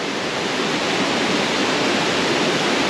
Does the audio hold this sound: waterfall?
yes